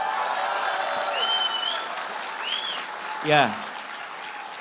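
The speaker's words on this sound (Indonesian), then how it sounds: "Kita kasih tepuk tangan buat mereka semua." Audience applause at a presidential candidate's town hall Q&A in Pontianak, given in tribute to people with disabilities; a steady crowd clapping under a brief spoken word and a few whistle-like tones.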